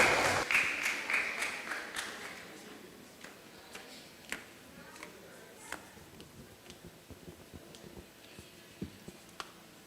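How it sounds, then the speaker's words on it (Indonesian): Scattered audience clapping for a contestant at the Bintang Radio Indonesia 2025 final in Palembang, a brief burst of applause that quickly thins into sparse, faint individual claps. "Boleh kita berikan tepuk tangan yang meriah?"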